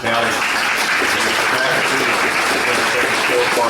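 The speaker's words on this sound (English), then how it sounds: "I'd like everybody to give him a round of applause." A crowded audience at a candidate forum for a general sessions judge applauds steadily, dense continuous clapping filling the room at full volume without a break.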